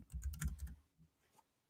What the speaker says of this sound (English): It'd be great if my keyboard worked.